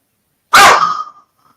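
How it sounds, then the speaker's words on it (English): A dog gives one sharp, loud bark at close range, then the sound quickly fades into silence, with no voices around it. "whose dog is that?"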